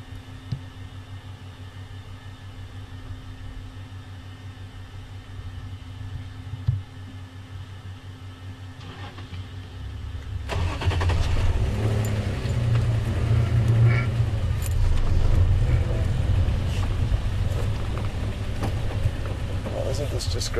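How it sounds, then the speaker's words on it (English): Safari game drive vehicle on an evening drive following a female leopard, low engine rumble and road noise that grows louder and rougher partway through as it moves off, with someone talking over it. "we're in a very maneuverable vehicle"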